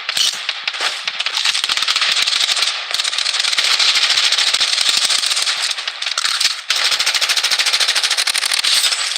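Sustained rapid automatic gunfire from the Blood Strike battle royale video game, loud and dense bursts with brief gaps, continuing almost without pause.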